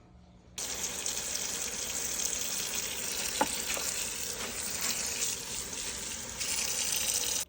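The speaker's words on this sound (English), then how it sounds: "I'm going to rinse them one more time" Running tap water pours into a kitchen sink as kale greens are rinsed, a steady close hiss of flowing water with occasional splashes and clinks, starting abruptly after a short quiet moment.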